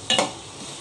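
Taro root slices stirred in a pan: two quick scraping strokes of a spoon up front, then a soft, steady sizzle underneath.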